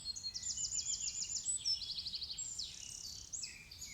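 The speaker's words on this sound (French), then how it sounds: "Le concert de gazouillis d'oiseaux," Morning birdsong chorus outdoors, with rapid high chirps and trills from several small birds in quick overlapping runs, fairly faint and without any voices.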